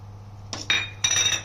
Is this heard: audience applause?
no